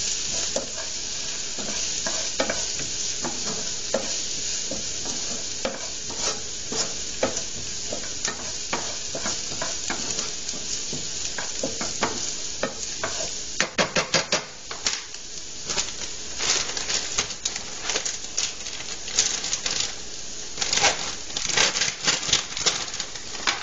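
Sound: garlic and vegetables frying and being stirred in pan

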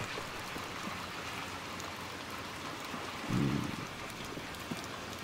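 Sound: rain falling in Little Nightmares II video game

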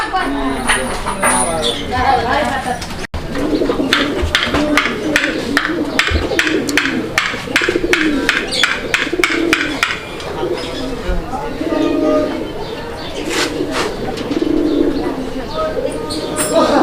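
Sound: Rajshahi roller giribaz pigeons cooing

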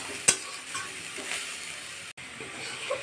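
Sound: coconut and jaggery frying in a pan

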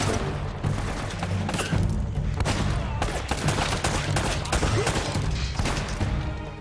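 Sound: shotgun gunfire in video game Uncharted Drake's Fortune

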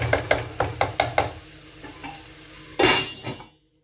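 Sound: stirring vegetables frying in a pan

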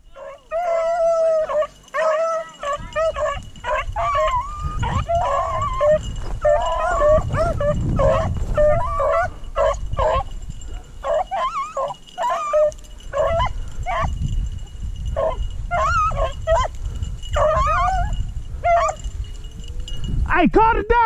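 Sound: hunting dogs howling and baying while chasing rabbits

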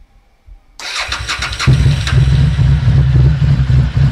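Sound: Harley-Davidson Street 750 motorcycle engine starting

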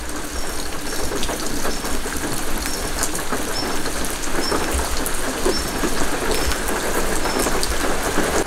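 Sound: rain falling

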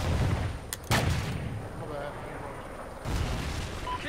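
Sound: rocket explosion in a video game

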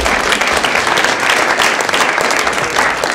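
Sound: audience applause

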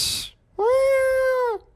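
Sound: person imitating a cat meowing

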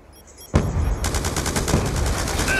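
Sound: light machine gun gunfire in Call of Duty video game

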